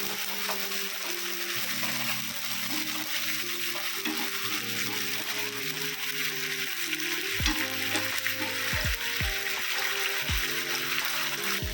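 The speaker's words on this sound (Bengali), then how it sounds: "একটু হালকা নেড়ে নেব।" Chicken momo filling being stirred in a frying pan, with a constant soft sizzle, occasional scraping strokes, and faint low tonal hum in the background.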